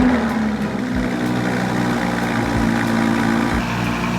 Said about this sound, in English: Now that's the stock exhaust.